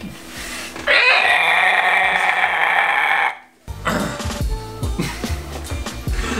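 A voice imitates a dragon with a loud, sustained raspy roar lasting over two seconds, followed by a short pause and then noisier vocal sounds.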